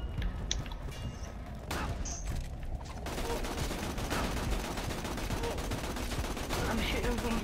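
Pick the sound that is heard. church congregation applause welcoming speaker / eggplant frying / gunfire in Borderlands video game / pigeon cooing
gunfire in Borderlands video game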